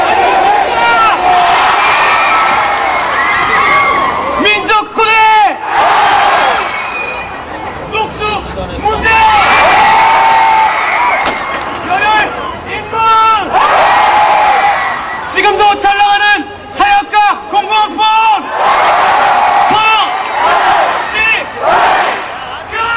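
A large crowd of Korea University students shouting their school cheer chant together, loud rhythmic bursts of massed voices repeating in waves, with brief pauses of babble between phrases.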